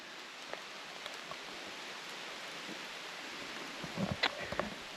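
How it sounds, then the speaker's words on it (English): Rain falling outdoors on a farm beside a boundary fence, a steady soft hiss of drops throughout with a few faint closer taps and rustles near the end. "it started raining on me."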